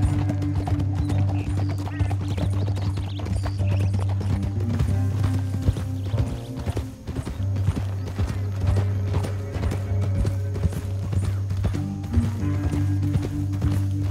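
Horse hooves clip-clop steadily in the Western video game Red Dead Redemption 2, a continuous rhythmic trot with occasional snorts over a low droning score, fairly close and unbroken by talk.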